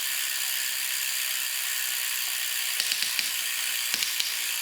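Freewheel hub ratchet on a Planet X TT bike buzzing steadily under a loud whirring background, with a few sharper clicks of the pawls toward the end.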